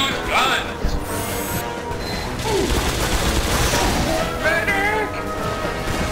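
Gunfire in the video game Team Fortress 2, dense overlapping shots and crashes forming a loud chaotic fusillade, with players' voices talking over the battle throughout.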